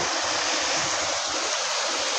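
Fast-moving stream water rushing past at close range, a steady, loud broadband roar with constant churning and no pauses, heard alone without voices.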